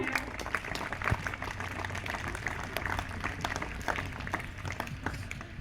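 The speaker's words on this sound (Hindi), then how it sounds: "वसु सेन करेक्ट आंसर है, जोरदार तालियां।" Audience at a school quiz competition clapping for a correct answer, a quiet, scattered round of applause with distinct individual claps, moderately distant and steady throughout.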